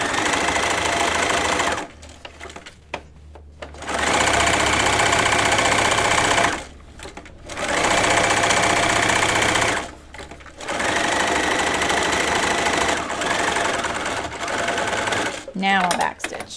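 Sewing machine fitted with a buttonhole foot stitching jeans in four rapid mechanical bursts, loud and close, separated by short pauses. Talk comes in the gaps.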